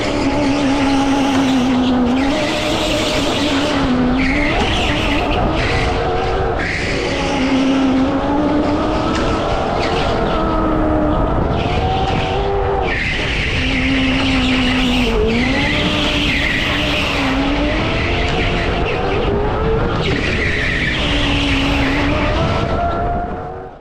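An electric go-kart pushes a fast lap on an indoor track, its motor whining loud and steady throughout, with bursts of tire squeal and skidding through the corners.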